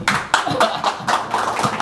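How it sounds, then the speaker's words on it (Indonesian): Applause at an Indonesian Facebook Ads training session, with short bursts of hand clapping from a small audience, several quick rhythmic rounds close to the microphone. "Tepuk tangan dulu buat Pak Iwan."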